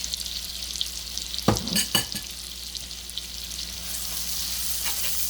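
Onions for pav bhaji sizzle steadily in a hot pan, a loud continuous frying hiss broken by a couple of sharp stirring scrapes and clinks near the start, with no one talking.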